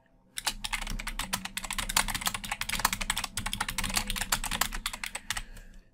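Steady typing on a computer keyboard, quick bursts of key clicks running continuously at close range while a note is entered in NVivo annotation software, with no talking.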